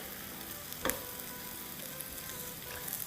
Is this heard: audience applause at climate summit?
no